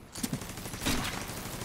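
Sniper and heavy gunfire from an online shooter game crackles in a few short bursts, fairly faint, with no one talking over it.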